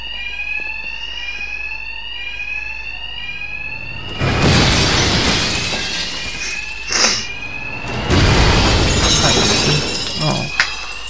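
Bank alarms in Batman Arkham Knight ring continuously with shrill, warbling tones, while bursts of shattering glass and crashing impacts break in loudly over the top and voices speak intermittently.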